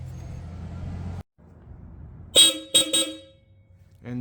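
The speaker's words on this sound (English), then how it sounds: "And this is what the horn sounds like." A Hella Super Horn fitted to a Mazda ND Miata gives a loud, close blast followed by two short sharp honks. Quieter ambient noise and a brief silence come before it.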